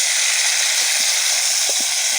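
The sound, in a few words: stirring vegetables with salt in a pan for labra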